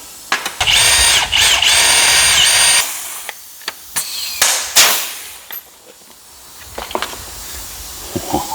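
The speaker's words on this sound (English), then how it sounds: "Now I can drill this one" A power drill whirs loudly in a steady burst for a few seconds while working on a snowmobile, followed by a series of short clicks and knocks with scattered brief bursts.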